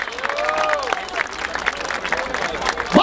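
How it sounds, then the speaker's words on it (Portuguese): Applause and cheers erupt from the crowd at a street rap battle in Barueri, São Paulo, with lively clapping and whoops mixed with shouting voices, close and busy throughout the short burst. "Palmas pra essa batalha"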